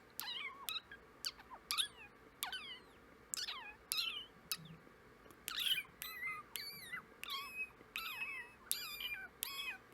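A person imitates kitten meows: a string of about a dozen high, thin mews spaced a second or so apart, each one brief and rising and falling, close to the microphone and otherwise quiet.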